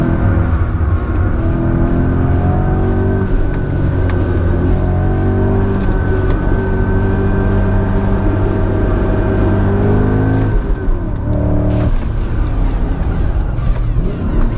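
A supercharged BMW M5 on a race track holds a loud, steady engine drone with a layered harmonic whine. The drone breaks off briefly near the end, then resumes.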